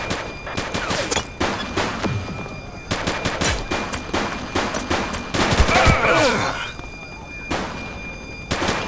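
A police shootout in the video game The Precinct, with volleys of close gunshots in quick irregular bursts, crashes and thuds mixed in, loud and continuous throughout.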